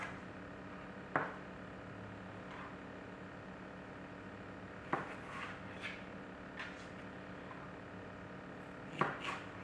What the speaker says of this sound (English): I think I will just chop these.